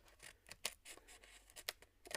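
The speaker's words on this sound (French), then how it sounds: "on remet un petit coup de ciseau" Scissors cutting paper up close: a series of quiet, crisp snips in an irregular rhythm, heard alone in a silent room.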